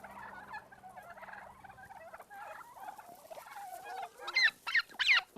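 A cluster of young Bourbon turkeys gobbling and chattering nearby, with a few louder, high-pitched gobbles toward the end.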